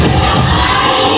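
A large crowd at a Pakistan Peoples Party foundation day rally in Peshawar roars in response to a slogan, a dense, loud, sustained wall of shouting voices.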